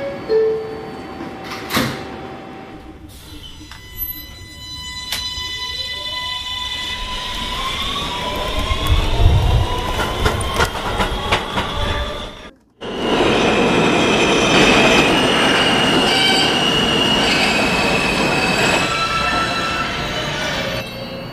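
A New York City subway L train runs along the track, its wheels squealing in long rising and falling tones, with rumbling and clattering cars, a brief near-silent gap, then a steady loud roar of running cars.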